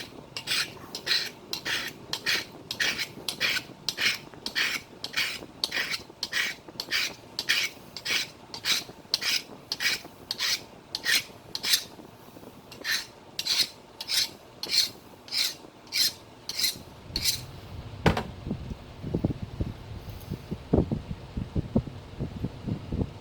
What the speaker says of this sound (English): And time to sharpen the tool again.